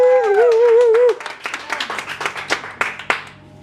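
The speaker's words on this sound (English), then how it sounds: "Don't be stingy with the claps this evening." At a comedy roast, a drawn-out wavering howl-like vocal cry gives way to a scattered round of audience clapping, irregular claps of varying loudness that thin out toward the end.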